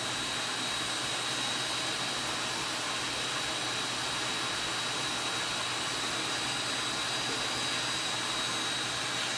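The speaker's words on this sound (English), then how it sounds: "I'm going to make sure my heat gun's on high" A heat gun running on its high setting blows with a loud, constant roar of air and motor noise, steady and unbroken, close to the listener.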